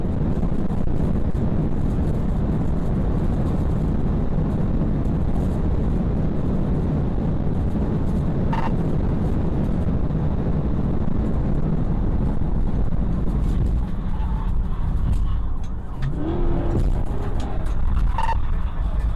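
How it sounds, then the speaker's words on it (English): A Dodge Challenger's engine roars during a police chase, a continuous loud rumble mixed with heavy wind rush that holds steady for the whole stretch. "engine roaring"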